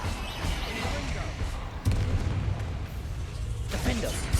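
In the video game Hogwarts Legacy, a Confringo blasting spell explodes with a sudden sharp boom partway through, set against a rumbling combat backdrop with voices shouting during the duel.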